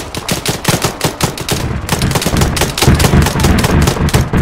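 Rapid automatic gunfire in the military shooter Arma 3 crackles in dense, loud, continuous bursts with no break.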